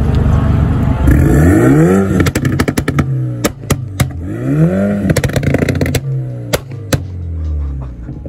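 An Audi R8 sports car exhaust roars through two rising acceleration sweeps at the Le Mans circuit, punctuated by sharp crackling pops and bangs between revs.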